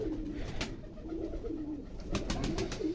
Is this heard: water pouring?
no